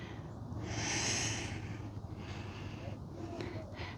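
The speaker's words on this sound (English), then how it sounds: "Take one more deep inhale. And then exhale" Deep, slow breathing during a vinyasa yoga pose: one long, loud breath swells and fades close by, followed by softer, shorter breaths.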